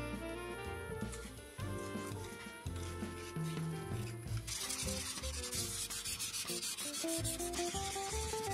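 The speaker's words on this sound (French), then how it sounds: "pour pouvoir poncer le plus lisse possible. Et je finis avec du 800 à l'eau." Wet sanding a fibreglass cowl for a radio-controlled plane with 800-grit paper: a steady rubbing, scraping sound that continues under prominent background music.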